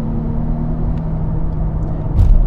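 A Porsche Panamera with a 7-speed PDK dual-clutch gearbox accelerating, a steady close engine rumble and road hum that swells louder near the end, with no talking.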